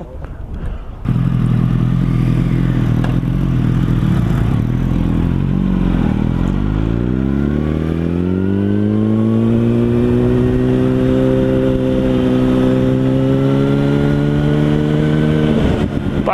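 Motorcycles riding a lap of Oliver's Mount road circuit in Scarborough, engines droning loudly and climbing through the revs as they accelerate, with a steady close engine note throughout.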